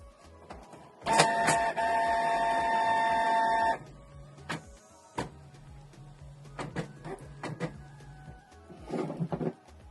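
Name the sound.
Canon PIXMA G650 printer starting up after power on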